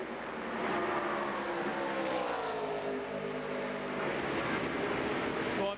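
ARCA race cars roar at speed into turn one at Pocono during the 2001 Pocono 200, a continuous loud engine drone with shifting pitch as cars pass, heard from a distance.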